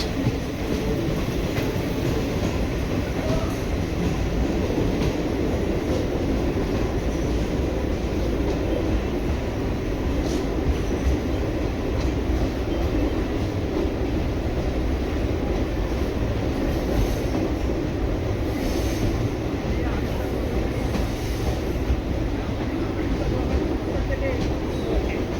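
Chennai Egmore Express rumbling steadily through a tunnel on the Kollam to Chennai line, a loud continuous roar of wheels and carriages with faint rail squeal, unbroken for the whole stretch.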